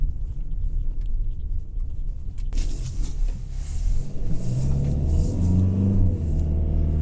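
A Toyota Hilux Invincible pickup driving at about 50 km/h on a gravel road gives a deep, continuous rumble of engine and tyres that swells louder over the second half.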